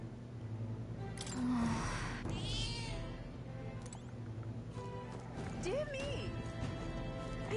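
A cat meows inside the video game Metaphor: ReFantazio, with a short mewing call rising over a steady wash of game music and ambient sound.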